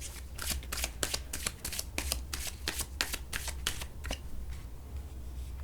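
Tarot cards shuffled by hand in quick, repeated riffling bursts, close and crisp, with a faint low hum underneath and no speech.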